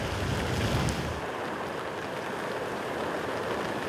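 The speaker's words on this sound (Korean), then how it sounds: "비바람이 몰아칩니다." Wind and rain lash the Guryongpo seaside, with a dense, steady roar of gusting wind, rainfall and crashing waves, loudest at the start before easing into a continuous broadband rush.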